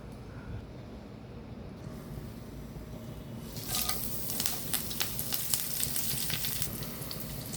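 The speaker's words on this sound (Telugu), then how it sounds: "పచ్చివాసన రాకుండా వేపుతున్నాను" Onions, green chillies and mango curry with lentils frying in a pan. A quiet, steady background gives way midway to a continuous close sizzle with sharp crackles and pops, and nobody speaks.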